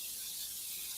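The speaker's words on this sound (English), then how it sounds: "You want to spray the bottom or anything? Yeah. Spray it really well." Cooking spray hisses briefly and faintly from a can onto the bottom of a skillet, a short steady spray.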